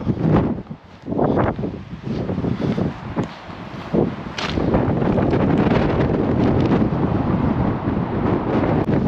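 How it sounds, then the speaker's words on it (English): Strong wind beside a cliff buffets a microphone in gusts, roaring and rumbling, with a steadier blustery roar through the second half. "It's a bit windy"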